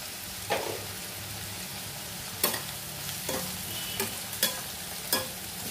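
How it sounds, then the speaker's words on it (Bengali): Onions with a little salt sizzle steadily in a hot pan over a gas flame, a continuous frying hiss broken by several sharp scraping stirs. "একদিকে পেঁয়াজটা ভেজে নিচ্ছি।"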